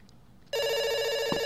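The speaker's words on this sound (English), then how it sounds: "It's ringing. Don't worry." A telephone ring from the game Dr. Langeskov, The Tiger, and The Terribly Cursed Emerald starts abruptly after a brief quiet moment and carries on loud and sustained to the end, with no voices over it.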